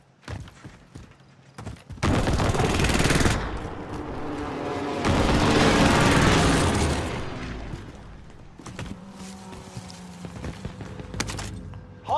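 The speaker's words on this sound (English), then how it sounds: "Allied precision airstrike incoming." Heavy airstrike blasts in Call of Duty Warzone on Rebirth Island roar loudly for several seconds, a second long rumbling wave following, then scattered gunfire and softer battle noise trail off.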